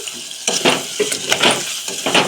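Pan sizzling with intermittent bursts of crackling oil as ginger hits it while cooking a raw mango prawn curry, a few stirring clatters mixed in, close and moderately loud.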